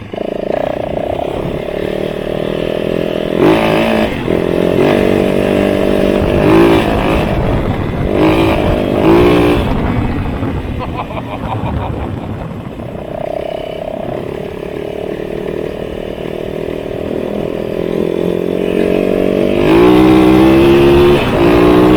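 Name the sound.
450 motorcycle engine revving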